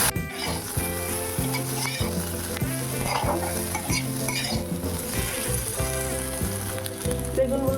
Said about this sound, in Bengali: একটু নাড়াচাড়া করে বেগুনগুলো একটু ভাজা করে নেবো।